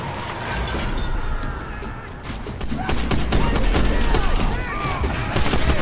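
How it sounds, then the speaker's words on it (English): In Call of Duty: World at War a grenade blast and heavy gunfire roar together in a loud, continuous volley of battle noise that swells partway through and stays dense to the end. "Grenade!"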